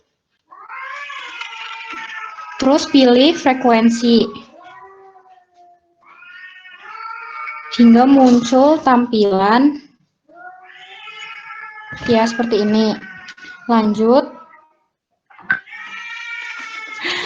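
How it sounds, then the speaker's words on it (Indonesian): A cat yowls loudly in long, wavering cries, repeated several times with short pauses, while someone talks quietly between and beneath the cries. "itu suara kucing"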